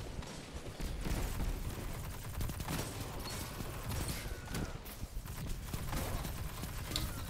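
Rapid bursts of video-game gunfire crackle back and forth in quick irregular volleys, loud and busy over a rumbling background.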